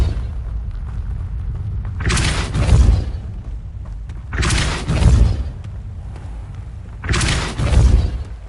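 Three separate Depulso spell casts in the video game Hogwarts Legacy, each a loud whooshing burst that swells into a deep booming thump, spaced a few seconds apart over a low background, with no talk.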